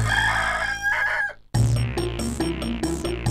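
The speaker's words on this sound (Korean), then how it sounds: "수탉이 시끄럽게 울자" A rooster crows loudly twice, each call a long, strained cock-a-doodle-doo. A brief silence separates the two crows, and there is no speech.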